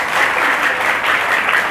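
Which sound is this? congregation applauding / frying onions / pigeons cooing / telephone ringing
congregation applauding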